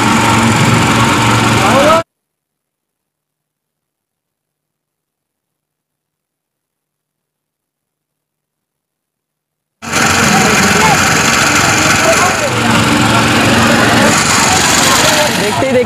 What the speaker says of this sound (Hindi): ये देखो लाइट वगैरह जनरेटर से चलाते हैं